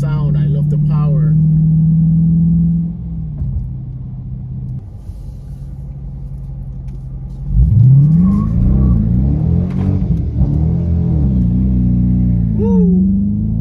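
A 2023 Dodge Charger R/T with a Hemi V8 rumbles at idle, then its engine is revved hard with rising, throaty sweeps, loud and close, with brief talk heard between the revs.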